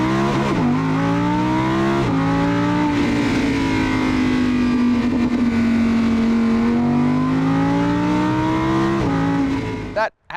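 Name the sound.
V10 sports car engine revving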